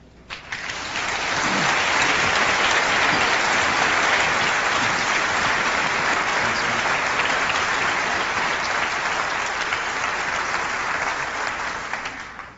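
Sustained audience applause fills a large hall at Macworld 1998, loud and steady throughout with no talking over it.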